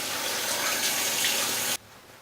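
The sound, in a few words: tap water running while washing face at sink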